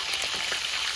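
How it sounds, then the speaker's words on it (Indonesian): Salted hairtail fish fries in a pan with a steady, dense sizzle and crackle throughout, with no talking. "Goreng ikan asin layur"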